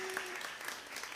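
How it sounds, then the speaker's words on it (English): An audience at a Sunday celebration service claps in a steady, even round of applause, fairly soft and distant, with a faint tone ringing briefly through it. "Let's give them a round of applause"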